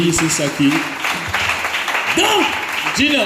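A church audience applauds to acclaim the Lord with steady, dense clapping that runs throughout, partly under a preacher's voice.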